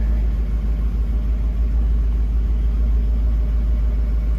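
1966 Ford Mustang convertible engine running on choke, a steady low rumbling idle, close and constant with no voices.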